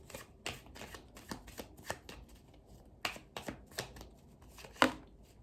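Tarot cards being shuffled by hand, a quiet run of quick riffling flicks and soft slaps in an irregular rhythm, close and faint, with no talk.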